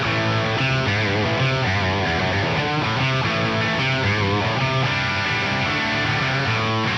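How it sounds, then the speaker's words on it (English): Electric guitar riffing through a dry, modified Marshall amp tone modeled in a Fractal FM3, dense and continuous with steady rhythmic chugging and no voice over it. "This is going to give me just the dry amp sound."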